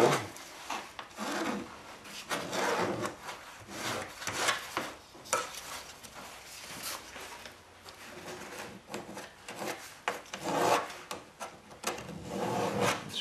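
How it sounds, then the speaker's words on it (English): A hand tool scrapes excess material off a fly fishing wheel in close, irregular strokes, each a short raspy scrape with brief pauses between, moderately quiet and with no talking. "Scrape up some of the excess."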